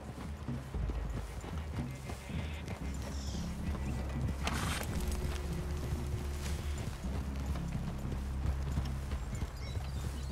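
Horses' hooves clip-clop steadily in Red Dead Redemption 2 over a low outdoor rumble, close and rhythmic, with a brief rustling burst partway through and no talk.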